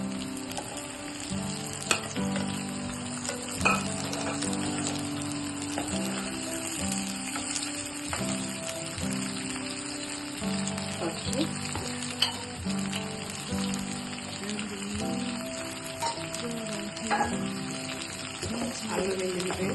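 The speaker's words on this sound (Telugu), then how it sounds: "అలాగే బాయిల్ చేసి ఉంచుకున్న రొయ్యలు వేస్తాం." Boiled prawns and green chillies sizzle and fry in hot oil with half-cooked onions in a pan, a steady loud crackle with occasional stirring clinks, heard alone.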